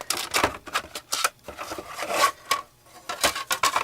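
Metal embossing-machine plates gathered up during a papercraft session, a run of light clanks, scrapes and rattles coming in uneven bursts, close by and fairly quiet.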